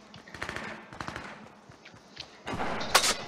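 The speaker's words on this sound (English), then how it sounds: "Shots fired." Gunfire in the video game Fortnite: scattered bursts of rapid shots, then a louder, denser volley near the end.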